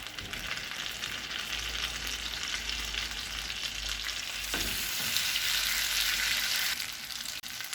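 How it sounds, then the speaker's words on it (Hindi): Chicken fries in melted butter in a pan, a steady dense sizzle that swells slightly louder partway through, close and continuous with no speech over it. "चार से 5 मिनट तक इन्हें फ्राई करेंगे"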